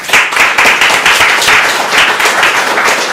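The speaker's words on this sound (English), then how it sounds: "I would like to give a round of applause" Audience applause at a Qubes OS summit conference, a steady dense wash of many hands clapping close and loud throughout, with no talk over it.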